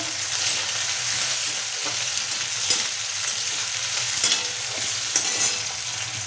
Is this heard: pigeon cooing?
no